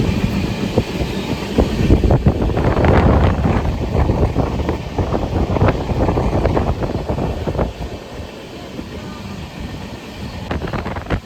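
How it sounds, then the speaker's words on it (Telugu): A passenger train running near Pithapuram on a route to Annavaram, heard from inside a crowded coach: a steady loud rumble with rhythmic rattling and clatter of the wheels throughout, easing slightly toward the end. "మన ట్రైన్ వెళ్తున్నట్టు ఉంది."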